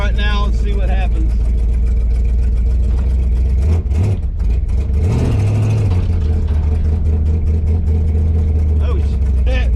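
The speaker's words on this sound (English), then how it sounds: "I'm just going to drive around the neighborhood right now and see what happens." A 1968 Dodge Charger R/T with a Holley carburetor rumbles loudly while driving through a neighborhood, its deep engine drone rising in a couple of brief revs before settling back to a steady cruise.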